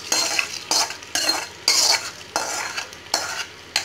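Fried cashews go into barnyard millet pongal, which is then stirred with a spoon in a metal pot, giving a run of loud, regular scraping strokes about every half second, heard close and alone.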